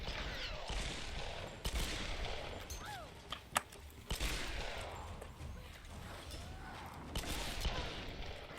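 Magnum pistol shots from Tomb Raider (2013), fired against shield guardians. Sharp cracks come at irregular intervals over a rumbling battle backdrop, with scattered impacts and distant gunfire.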